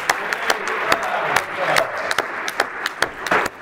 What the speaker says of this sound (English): round of applause for Gary Takacs